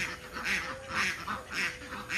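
Lesser whistling ducks with four small ducklings on a small pond, giving repeated bright, whistling calls in regular bursts at close range, with steady outdoor background noise and no talking.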